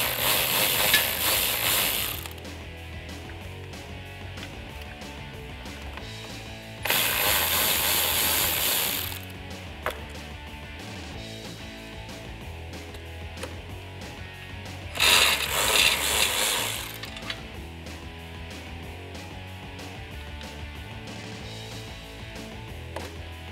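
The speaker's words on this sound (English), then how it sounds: "with a ratchet and a 10 millimeter socket, we're gonna remove the 4 bolts located around the stock fog light." A ratchet with a 10 mm socket removes the fog light bolts on a 2021-2022 Ford Bronco, sounding as three separate bursts of rapid, close clicking with quieter gaps between them.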